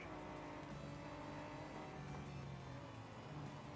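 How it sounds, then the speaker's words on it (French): A car engine in an off-road racing video game revs steadily as the car accelerates, heard as a faint, continuous droning hum with no talk. "Allez, c'est parti, on va accélérer un peu."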